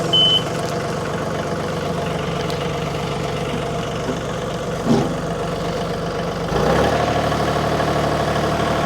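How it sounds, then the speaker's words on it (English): A 2022 John Deere 3033R compact tractor engine chugs at a steady idle, then rises to a louder, fuller rumble near the end; no talking. "I'm going to fire this tractor up"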